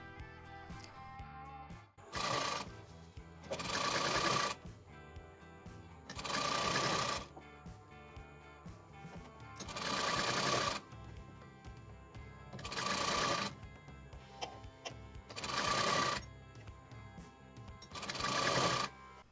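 Sewing machine stitching a lehenga made from a saree, running in several loud bursts of a few seconds each, separated by short pauses, with no talking.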